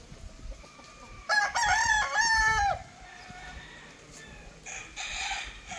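A rooster crows once loudly and close, a drawn-out call among breeder chickens, followed by softer clucking and squawks from the flock around it.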